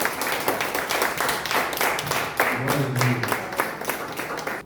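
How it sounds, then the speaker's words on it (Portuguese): A church congregation claps steadily, dense applause filling the space, with some voices and a brief sung or spoken tone rising midway. "Você pode aplaudir ao Senhor nessa manhã"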